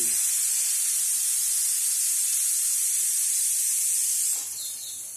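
Steady loud hiss of steam escaping a pressure cooker with a faulty whistle, used while cooking bottle gourd halwa; the strong broadband hiss runs continuously, then drops somewhat in level near the end.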